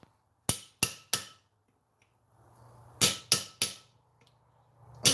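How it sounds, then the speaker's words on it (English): Sharp metallic strikes of a hammer driving a chisel into hot metal at a forge, in two bursts of three evenly spaced blows, with a faint hiss between them and one more strike at the end. "Let us chisel."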